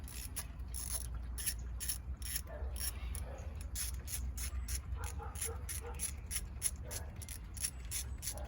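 A ratchet clicks in quick, repeated bursts while loosening the thermostat bolts on a 2011-2015 Dodge Durango, close and crisp over a low background rumble.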